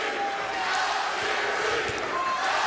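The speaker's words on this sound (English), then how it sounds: "And you hear the crowd" A boxing arena crowd at Chris Algieri's fight against Jose Peralta roars in a steady, wide wash of cheering and shouting, heard at a moderate distance with no break for nearly three seconds.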